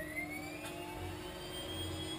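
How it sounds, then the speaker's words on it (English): A SubSonex small jet aircraft's engine starts up, giving a faint, steadily rising whine over a low continuous hum, heard alone with no talk. "here we go for the engine start"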